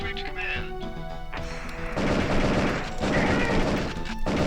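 A stock explosion sound effect from the FMV shooter Area 51 bursts in loudly after a couple of seconds of game noise and rumbles on in a long broadband roar, with a second swell near the end.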